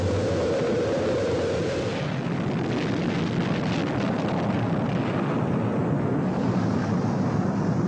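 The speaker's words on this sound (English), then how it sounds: "We have main engine start." Rocket main engines igniting at launch, a steady, dense, loud roar that stays constant throughout with no voices over it.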